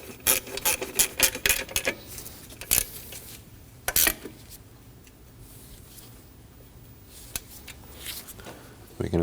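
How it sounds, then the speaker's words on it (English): An alternator bracket bolt being tightened on a 2003-2006 Subaru Baja: bursts of rapid ratchet clicking up close, with a few sharper metallic knocks, then a quieter stretch of faint shop ambience. "Now we'll tighten up the bolt holding the alternator to the bracket."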